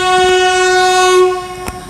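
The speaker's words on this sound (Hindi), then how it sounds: "और अभी फ़िलहाल में हूँ मैं एक नंबर प्लेटफार्म पे" A train horn blares loud and close at platform one of Rambag railway station in Prayagraj, one sustained tonal blast that fades, with a brief click near the end.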